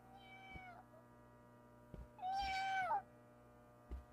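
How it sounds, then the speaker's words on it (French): A cat meows twice, first a short meow and then a longer rising-and-falling one, faint and fairly close over a steady low mains hum, with a few soft thumps and no talking. "Oh, petit chat."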